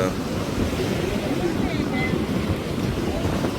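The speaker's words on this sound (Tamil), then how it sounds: "ரொம்ப காற்று ரொம்பவே இன்னும் சீராகலை" Strong wind buffets the microphone with a constant roar, and rough sea surf churns beneath it on the coast, loud and unbroken.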